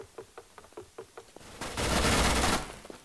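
Gunfire in the video game Counter-Strike: Global Offensive: a rhythmic series of sharp, evenly spaced shots followed by a louder, sustained burst of noisy blasts that fades out.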